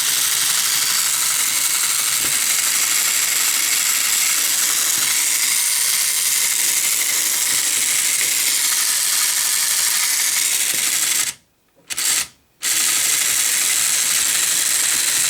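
A small electric motor in a toy truck whirs steadily at high speed, a continuous buzzing hum close by, cutting out briefly twice near the end before resuming.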